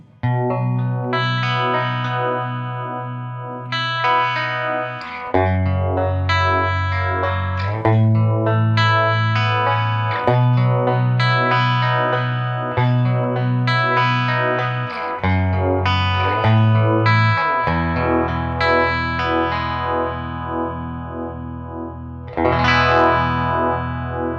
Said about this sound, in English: the JHS Unicorn, which is a Univibe style pedal, and just really mellow and chill